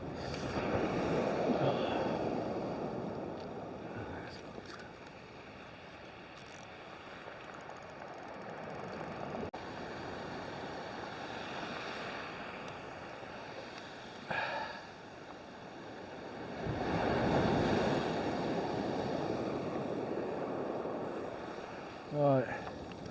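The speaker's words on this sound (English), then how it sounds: "The waves are pretty big." Big sea waves break on a Welsh shore during a fishing trip, surging in two broad washes with wind buffeting the microphone, heard alone without speech.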